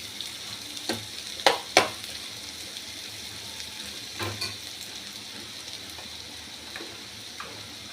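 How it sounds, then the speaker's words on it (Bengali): Papaya frying with spices in a pan, a steady sizzle under a few sharp clacks of a spatula against the metal. "আমরা, সেই রকম এই পেঁপের সাথে এটা ভাজবো"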